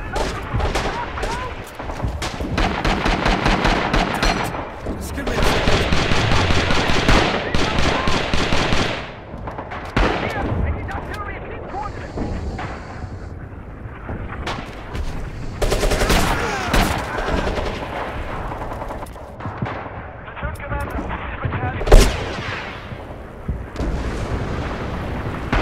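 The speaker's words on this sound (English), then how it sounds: "Coming artillery on our position." Gunfire and artillery blasts in the Vietnam War shooter Rising Storm 2, with dense bursts of shooting, heavy booms and a sharp blast near the end, continuing under voices for the whole stretch.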